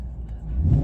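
A car engine revs up, a steady low rumble that swells louder toward the end of the brief burst, heard close and alone.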